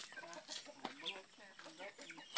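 A chicken clucks in repeated short, choppy bursts at close range, with a denser cluster of clucks near the end, set against steady background noise at a farmyard.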